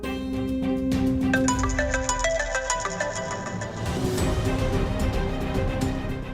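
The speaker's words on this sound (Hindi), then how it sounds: "आकाश का फोन मुझे क्यों आ रहा है?" A phone ringtone plays a bright, repeating melodic tune, clear and close, then gives way to muffled background noise.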